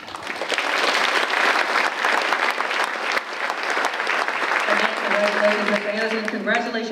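Sustained, loud audience applause at an awards event honoring influential African Americans in Mississippi, a steady wash of many hands clapping throughout, with a tonal voice or music emerging near the end.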